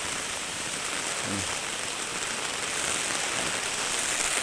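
Rain falls outside a monk's hut just after the plants were watered, a steady, even hiss of drops that continues without a break and carries a faint hint of a voice in the background.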